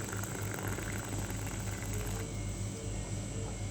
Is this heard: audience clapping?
no